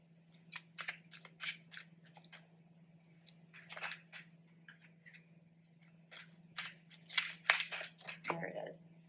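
Tarot cards being drawn and shuffled, with a run of crisp, close papery flicks and snaps in irregular bursts over a steady low hum, while a person talks quietly.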